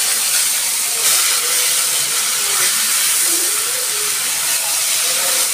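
Chopped onion drops into hot oil already holding green chili, torn bay leaf and cumin seeds for a hilsa and ridge gourd curry, raising a loud, steady frying hiss that stays even for several seconds.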